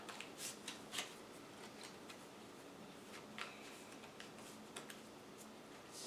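Cards from a Dune Imperium deck being shuffled on a tabletop, a soft, rapid riffling and flicking with a few sharper snaps, close but quiet, with no talking.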